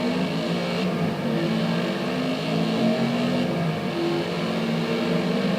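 Racing car engine in Forza Motorsport droning steadily, its pitch shifting as it revs up and eases through gears, loud and constant for the whole stretch with no talk over it.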